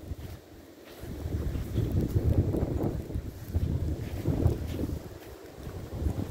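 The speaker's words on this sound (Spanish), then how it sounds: "El aire está empezando a soplar muy fuerte." Strong wind blowing across an open backyard soccer field in Anderson, South Carolina, on a snowy day, a steady low rumbling roar with gusts that swell and fade, no voices.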